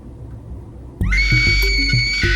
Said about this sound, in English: let me try playing around with the scream